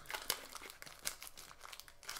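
Tape peeled and crinkled off a taped-up comic book package, close and dry, with several short bursts of crackling and tearing across a couple of seconds.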